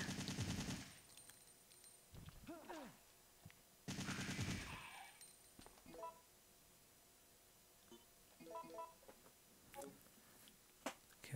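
Automatic machine gun firing in Resident Evil 3: Nemesis, two loud dense bursts near the start, then scattered sharp game effects and short beeps with quieter gaps between.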